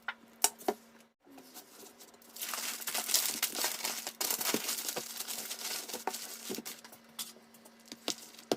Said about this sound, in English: we'll get this wrapped up. All right, we're going to wet the butcher paper down a little bit